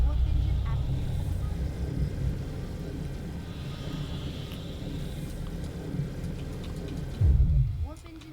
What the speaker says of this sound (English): Warp engine activated.